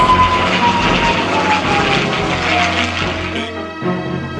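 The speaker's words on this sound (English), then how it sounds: "the P-51 and the Spitfire in its standard regalia as they zoom across into the sky overhead" A P-51 Mustang and a Spitfire fly overhead at the Biggin Hill air show, their piston engines giving a loud, sustained droning roar that shifts in pitch as they pass, then fades toward the end.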